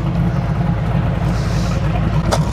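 A tow truck engine rumbles at low revs as the truck drives forward on a road, a loud, steady drone with no pauses.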